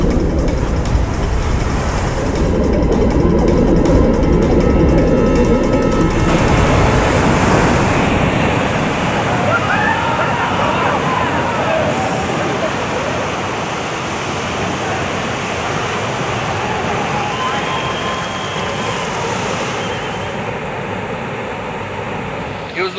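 Powerful ocean waves surge and roar into a sea cave of sharp volcanic rock, a loud continuous churning wash that stays heavy throughout and eases slightly toward the end.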